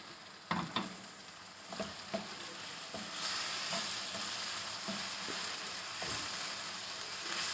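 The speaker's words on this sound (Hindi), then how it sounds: "अब हम इसमें शामिल कर देंगे टमाटर।" Tomatoes frying in a pan for an egg chutney, a steady sizzle with a few sharp clinks and scrapes of stirring near the start, close and moderately loud with no talking.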